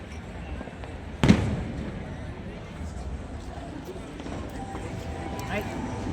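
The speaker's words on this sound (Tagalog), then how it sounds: "Habang may fireworks." A single loud firework bang bursts out early at a fireworks festival in Pattaya, Thailand, then fades into a steady din of crowd noise and nearby voices.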